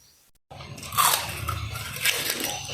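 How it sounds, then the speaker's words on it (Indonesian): Crunchy homemade amplang fish crackers bitten close up after a brief silence, giving a burst of crisp crunching followed by continued chewing crunches. "Nah, ini Mama dan anak Mama akan coba kerupuk amplangnya."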